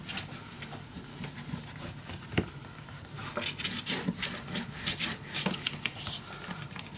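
Paper is burnished down inside a handmade mini album box, giving a close rubbing and scraping sound in irregular strokes that builds in intensity, with occasional small knocks.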